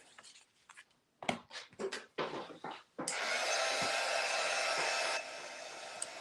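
A handheld dryer blowing on paint on a Gelli plate print, starting after some rustling and handling noises and then running as a steady, loud whoosh that drops slightly in level near the end.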